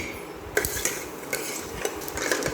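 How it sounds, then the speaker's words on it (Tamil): Mustard seeds, urad dal, cumin and fenugreek in a little oil in a kadai, a scatter of sharp crackling pops and clinks at irregular intervals over a light background hiss. "கடாயில் ஒரு பாத்திரத்தை வச்சு கொஞ்சம் போல் எண்ணெய் ஊற்றி கடுகு, உளுந்து, சீரகம், கொஞ்சம் போல் வெந்தயம்"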